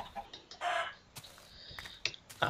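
Clucking chicken sounds in short bursts with sharp clicks and chirpy tones, somewhat thin and synthetic, no talking, from a modded Minecraft-style video game.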